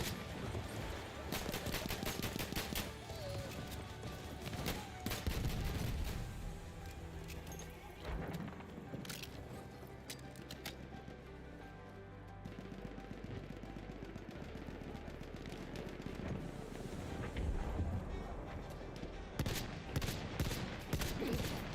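Dense, sustained gunfire from Battlefield 1, with rapid machine-gun bursts and overlapping shots mixed with explosions, loud and continuous throughout; voices speak beneath the battle noise.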